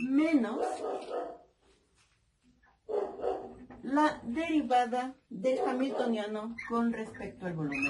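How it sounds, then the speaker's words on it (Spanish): A pet dog barks and yips at home during a spoken physics lecture, with the short barks mixed in under the lecturer's steady voice. "Una disculpa por mi perro que está ladrando."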